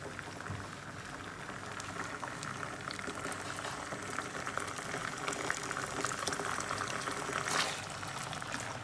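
Ready-to-eat chole masala heating in a pan, bubbling and popping in a soft continuous simmer, faint and close, with no voices.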